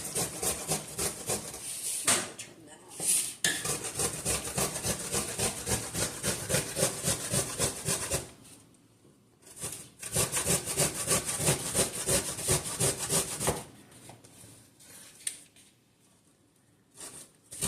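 Fresh ginger root rubbed hard against a cheese grater, a steady rapid rasping scrape in quick rhythmic strokes with short pauses between bursts, close and loud.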